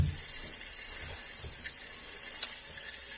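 Water trickling slowly into a toilet cistern with the lid off, a steady soft hiss and wash running the whole time with no pauses, faint and fairly close.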